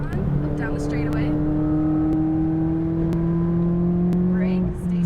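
A McLaren 570S on a race track accelerating hard under full throttle, its engine a loud, steady, rising drone heard from inside the cabin that climbs smoothly in pitch, while an instructor talks over it.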